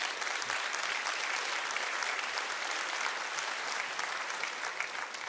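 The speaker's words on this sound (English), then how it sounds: "my personal applause for Aniek." Sustained audience applause, a dense, even wash of many hands clapping at a steady level from start to finish with no speech.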